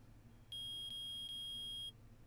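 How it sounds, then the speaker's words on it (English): Metal detector in the Phoenix Wright: Ace Attorney video game gives three sharp electronic beeps in quick succession, then holds a steady high tone that cuts off abruptly, loud and clear over a quiet low background hum. "I permit the use of the metal detector."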